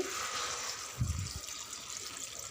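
Water pours briefly into a bowl of broad beans with a short splashing gush, surrounded by a faint steady background hiss.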